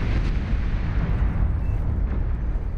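Wall cannon blowing up in the strategy game Planetary Annihilation, heard as a loud, deep rumbling blast that stays heavy throughout and carries no speech.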